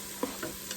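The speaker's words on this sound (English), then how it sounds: "So let's go ahead and give this a stir." Garlic stirred in a Ninja Foodi Deluxe pot, a short scrape of a utensil over a steady sizzle, with a couple of brief clinks close by.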